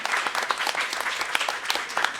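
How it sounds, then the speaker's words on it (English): Audience applause for a business event's panelists: a moderate crowd claps with distinct individual hand claps audible in an uneven, steady patter, no voices on top. "So let's give a big round of applause for all of our panelists."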